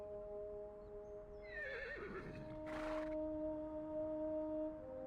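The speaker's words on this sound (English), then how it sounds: "The horse lowers his head." A horse whinnies in a fantasy video game scene, its wavering neigh rising and falling over a soft sustained musical drone, followed by a short breathy snort, fairly quiet against the steady background score.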